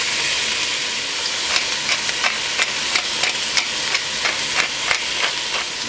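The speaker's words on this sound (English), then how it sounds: "Now we're getting a little color on that meat." Meat searing in a hot pan during preparation of an Italian Sunday sauce, giving a steady close sizzle with repeated sharp ticks and pops from the fat, with no talking.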